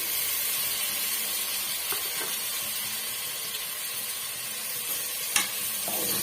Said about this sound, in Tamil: இந்த ஸ்டேஜில் நம்ம கட் பண்ணி வச்சிருக்க தக்காளி பழம் ஆட் பண்ணிக்கலாம்